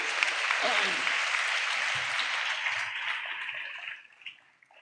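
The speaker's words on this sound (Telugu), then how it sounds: "చప్పట్లు కొడుతూ స్తోత్రాలు చెప్పు." A church congregation claps in a steady, dense patter that fades out near the end, with a few low thumps underneath.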